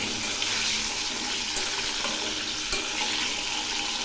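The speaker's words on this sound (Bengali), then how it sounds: "এখন এই পটলগুলো খুব ভালো করে ভেজে নেব" Continuous hissing sizzle of pointed gourd frying in oil, close and even, with a few soft clicks of stirring.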